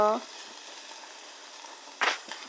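Food sizzling in a pan as it is reheated, a steady faint frying hiss throughout with a brief louder stir or clatter near the end.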